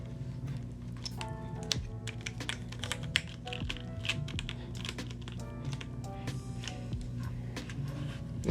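Steady typing on a Quarkeys Z67-YUN keyboard with a carbon fiber plate and Gateron KS-9 switches gives a dense, continuous patter of close key clicks and thocks, with a faint low hum underneath.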